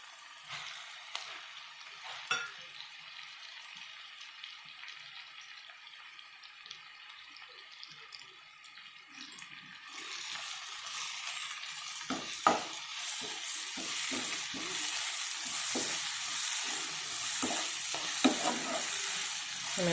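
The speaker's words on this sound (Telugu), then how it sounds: "ఇప్పుడు మెంతికూర వేసేసుకుందాము" Fresh fenugreek leaves sizzle and fry in a pan for a mixed vegetable curry, the frying growing louder midway with repeated scraping stirs and clinks of a spatula, no voices.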